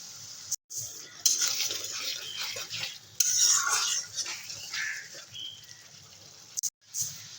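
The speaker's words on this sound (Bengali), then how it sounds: "দু মিনিটের মতো মশলাটা কষিয়ে নেব" Spice paste for mustard fish curry sautéing in a pan, a steady close sizzle with continuous stirring and scraping of a utensil against the metal, broken by brief pauses.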